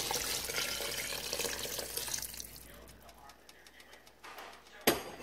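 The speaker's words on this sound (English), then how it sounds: "So at this point, we're going to add a water in here." Water pours and splashes into a pot of stew for a few seconds, loud at first and then thinning to a trickle, with a sharp clank near the end.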